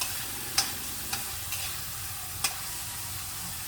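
Tomatoes frying in oil in a pan ahead of garlic and onion, a steady close hiss of sizzling with a few sharp scrapes of a stirring spoon, and no one speaking.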